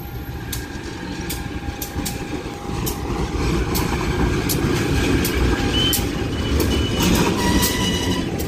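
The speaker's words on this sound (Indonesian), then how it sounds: "Kayaknya ada kereta dari belakang" An Indonesian passenger train rumbles past close by, wheels clacking rhythmically over rail joints with a faint metallic squeal, growing louder midway.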